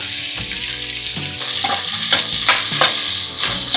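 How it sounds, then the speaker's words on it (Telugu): Onions added to hot oil fry with a steady close sizzle and crackle, joined by stirring scrapes, for a home-style Telugu chicken curry. "ఇప్పుడు ఆయిల్ కాగింది ఆనియన్స్ వేసుకున్నాము"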